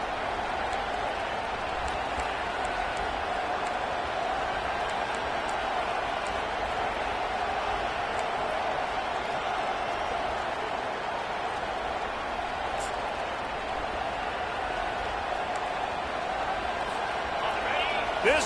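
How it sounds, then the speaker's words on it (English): A stadium crowd at a Cal versus Miami college football game roars in a steady, dense wash of noise that holds throughout, loud and continuous with no break. "This crowd bringing the energy and noise early"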